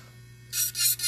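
An electric nail drill spun up to 30,000 RPM grinds a shiny gel top coat off a fingernail. Loud, close hissing bursts of filing kick in halfway through over a steady low hum.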